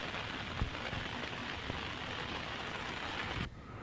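Heavy monsoon downpour in Gujarat, a dense, steady hiss of rain that drops abruptly in level near the end.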